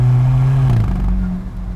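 An Alfa Romeo 4C Spyder with 240 horsepower accelerates hard on a tight road, a loud close engine note climbing then dropping as it shifts, followed by a rougher, lower growl.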